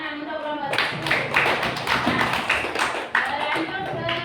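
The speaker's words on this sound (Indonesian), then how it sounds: "Tepuk tangan untuk kelompok 1." A classroom of students bursts into applause for group 1 during an Aqidah Akhlak lesson. A short voice comes first, then dense, steady clapping from many hands fills the room for several seconds.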